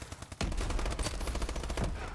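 Rapid bursts of automatic gunfire from the video game Call of Duty: Advanced Warfare, starting abruptly after a brief quiet and continuing loud and dense with sharp repeated shots.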